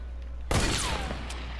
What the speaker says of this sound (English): Shooting through the window.